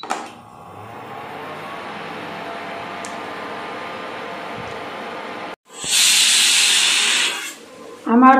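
Steam from rice cooking on the stove hisses in a loud, steady rush lasting about two seconds, following a long stretch of low, even background noise, with a brief voice at the end.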